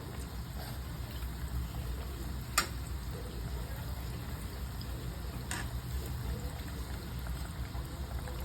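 Banana flower vadas fry in hot oil, a steady low bubbling sizzle running throughout with a couple of sharp ticks from turning, no voices over it.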